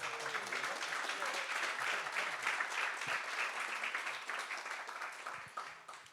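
Applause from a panel audience, a steady, fairly faint wash of clapping that holds for several seconds and then thins toward the end.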